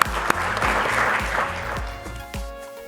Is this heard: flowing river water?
no